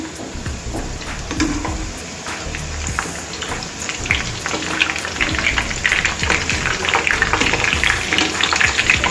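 Onion bread snacks fry in oil over a medium flame, giving a steady, dense crackling sizzle that grows busier toward the end, with no talking over it.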